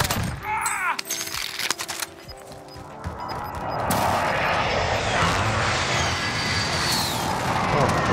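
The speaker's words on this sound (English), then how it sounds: "Be advised, friendly precision airstrike." A friendly precision airstrike in the Warzone video game: a few sharp gunshot-like cracks and booms, then a loud, sustained roaring rumble of aircraft and blasts that fills the remaining seconds.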